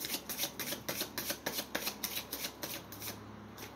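A deck of cards is shuffled in quick riffling bursts, crisp repeated flutters close up, with no talking.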